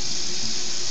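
Tap water runs steadily into a sink while a dish is rinsed, a dense, close, constant rush with no pauses.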